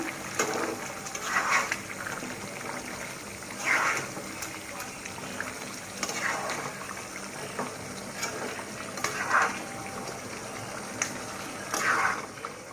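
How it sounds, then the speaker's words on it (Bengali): Chicken masala meat being slowly sautéed in a pan, a soft steady sizzle broken by about five louder bursts of stirring scrapes spaced a couple of seconds apart. "এর মাঝে আমি একটু নেড়ে দেব মাংসটা।"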